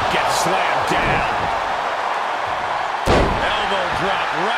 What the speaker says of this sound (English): Gets slammed down.